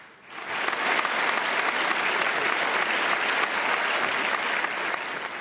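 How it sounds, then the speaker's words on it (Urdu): A studio audience at a televised Ramadan Islamic knowledge quiz show breaks into applause, a dense, steady clatter of many hands rising quickly and holding loud and close throughout, with no talk over it. "تالیاں."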